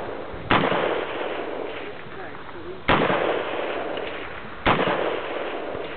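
A G3 rifle fires three single semi-automatic shots on an open-day shooting range, each a sharp loud crack followed by a long echoing tail, spaced about two seconds apart.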